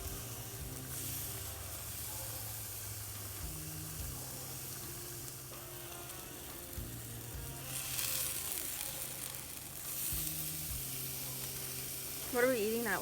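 London broil steak sizzles on a hot grill, a steady crackling fry hiss with faint stirring and scraping, continuous and close throughout, with a brief sharper clatter near the end.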